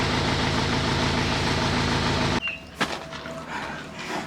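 A steady, loud tractor engine drone holds for about two seconds, then cuts off abruptly, leaving quieter clanks and faint background noise.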